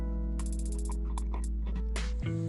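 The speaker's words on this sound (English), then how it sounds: "I removed the 4 flathead screws on the light switches." Flathead screws come out of light switches in a wall with quick ratcheting clicks and small mechanical ticks, close and fairly loud over a steady low hum.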